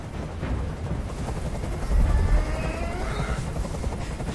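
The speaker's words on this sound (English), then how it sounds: "I can't stand that noise anymore. Tell that helicopter to get out of here." In the video game Detroit: Become Human, a helicopter churns loudly overhead in a continuous rumbling roar, with a heavier low thump partway through, the noise filling the whole scene.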